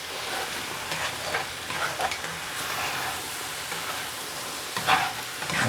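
Egg foo yung with king prawns fries in a pan while a utensil scrapes along the bottom. The hiss is soft and steady, with scraping strokes coming and going and a louder scrape near the end.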